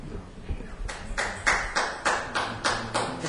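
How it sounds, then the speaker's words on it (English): At a public safety meeting, a few people give slow applause: about eight evenly spaced, fairly loud handclaps with no talk over them. "We're getting applause for that"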